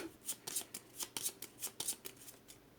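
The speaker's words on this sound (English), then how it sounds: "shuffle the Boiler Room cards" Cards from the Final Girl board game are shuffled close by, quietly, with about a dozen crisp riffling snaps coming in quick, uneven bursts.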